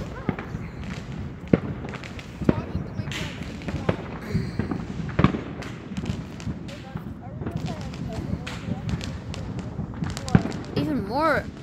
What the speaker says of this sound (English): Even more fireworks over there.